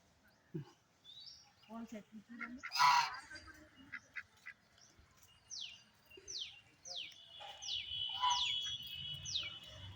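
Several ducks honk in short nasal calls, some overlapping, with people chatting nearby and brief chirps in the background, at a Shiva temple.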